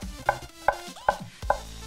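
Steady knife chops of garlic on a cutting board, five sharp taps spaced evenly about every few tenths of a second, close and clear with no talking.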